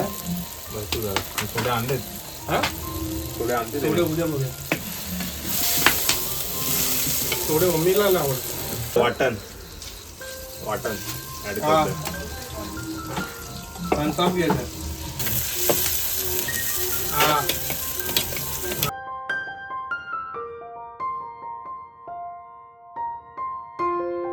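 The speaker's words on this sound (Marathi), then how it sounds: "इकडे टोमॅटो कांदा आणि लसूण त्याची फोडणी चालले" Tomato, onion and garlic sizzle steadily in hot oil as tempering for chicken rassa, with occasional stirring while someone talks over it; the frying gives way to music near the end.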